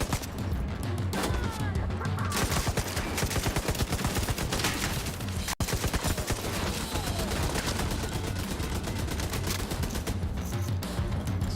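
Automated turrets in The Division 2 fire in a dense, continuous barrage of loud gunfire that layers into a steady roar across the whole stretch, with one brief dip near the middle and no talking.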